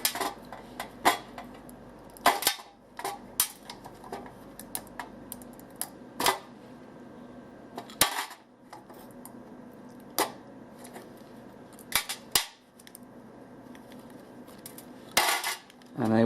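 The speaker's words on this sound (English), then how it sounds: "all I'm going to do is grab hold of this, and see, it's just breaking off in chunks" Corroded zinc-alloy carburetor parts on a 1975 Sport snap and crumble off in chunks, giving a scatter of sharp, close clicks and cracks with brief gaps between, in a quiet workshop.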